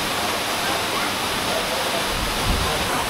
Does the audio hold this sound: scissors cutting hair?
no